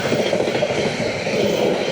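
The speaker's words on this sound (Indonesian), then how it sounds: "ada kereta lewat." A train rumbles past close by, a steady loud roar of wheels and rail noise with a faint rhythmic clatter, continuous for the whole stretch.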